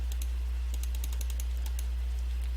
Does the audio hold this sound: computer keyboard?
yes